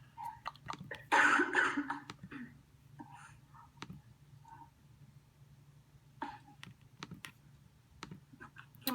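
A single muffled cough near the start, followed by soft clicks, faint keyboard taps and quiet rustling in a hushed room.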